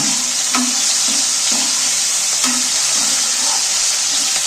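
Tomatoes frying in a pan give a loud, even sizzle close by, broken by soft stirring strokes about every half second, with no voices.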